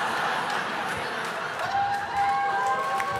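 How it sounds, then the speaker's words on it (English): Stand-up comedy audience at a Kristen Schaal show gives a short burst of applause, a dense wash of clapping with some cheering and laughter, loud and steady throughout. "That does deserve an applause."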